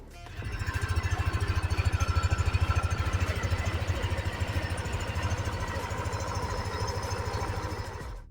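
A Yamaha NMAX scooter engine with about 10,000 km on it idles steadily close by, a smooth, even rapid pulsing throb that holds alone for about eight seconds.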